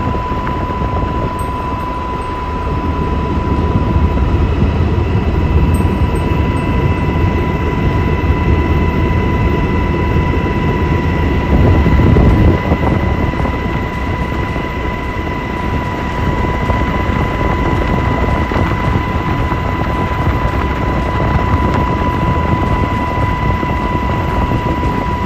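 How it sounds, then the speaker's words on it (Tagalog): An S-70i Black Hawk military helicopter flies during a training exercise, its rotors and turbine giving a loud, continuous, close roar with a steady whine throughout. "Kasama sa mahalagang pagsasanay na ito ang S-70i Black Hawk helicopter"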